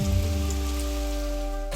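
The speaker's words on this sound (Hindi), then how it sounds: "अचानक बिन मौसम बारिश।" Sudden out-of-season rain, a steady wash of rainfall on surfaces with a low hum and tonal music beneath it, continuous for the whole stretch before cutting off abruptly at the end.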